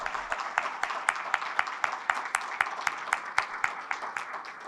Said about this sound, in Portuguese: Eu gostaria de uma efusiva salva de palmas